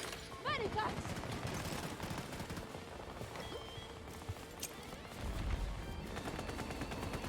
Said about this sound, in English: Can I just shoot people, please?